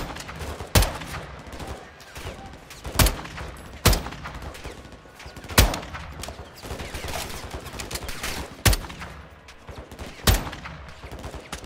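Gunfire in Call of Duty: Modern Warfare II rings out as single sharp shots every couple of seconds, loud and spaced over a low battle rumble.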